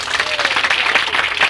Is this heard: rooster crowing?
no